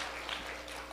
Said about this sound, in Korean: 박수 한번 주실래요?